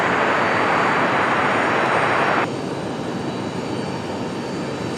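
A Southwest airliner on its takeoff run from runway 5 right at Raleigh-Durham airport makes a loud, continuous jet roar that drops to a lower, duller rush about halfway through.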